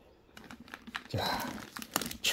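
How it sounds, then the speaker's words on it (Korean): A plastic sheet crinkles and rustles as it is laid over a cloth-covered jar of homemade strawberry vinegar, with a burst of crackling in the middle and sharp clicks and handling noises around it. "그 위에다가 비닐을 또 이렇게 덮으셔야 됩니다"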